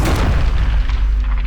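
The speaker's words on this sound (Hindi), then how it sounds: "तो ये एक विनाशकारी विस्फोट में जमीन पर गिर जाता है।" A metallic asteroid crashes into the ground in an explosion sound effect: a heavy, loud boom with deep rumbling low end that rolls on and slowly fades, with no voices.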